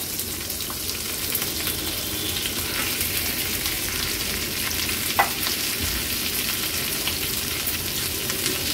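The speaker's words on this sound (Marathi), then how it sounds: "आता ह्याच्यामध्ये हे चिरलेले बटाटे घालूया।" Chopped potatoes fry in a pan with green chilies for a fasting-day potato dish, giving a steady, close sizzle with occasional stirring scrapes throughout and no voices.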